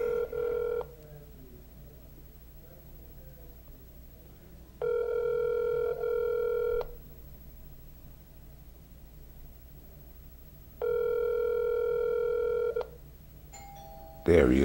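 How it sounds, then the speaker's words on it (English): A doorbell chimes twice with a sustained electronic multi-tone ring, each lasting about two seconds and separated by a long pause, heard indoors over a low steady room hum. "He's ringing the doorbell"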